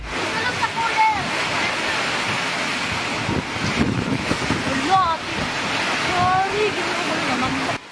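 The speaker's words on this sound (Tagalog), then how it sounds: "Pinipigilan nilang liparin ang mga tent dahil sa lakas ng hangin at matinding buhos ng ulan." Heavy rain and strong wind lash a night market in Davao City during flooding, a steady loud roar of downpour and gusts that continues without a break, with faint scattered sounds of people underneath.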